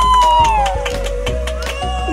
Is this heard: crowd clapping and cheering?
yes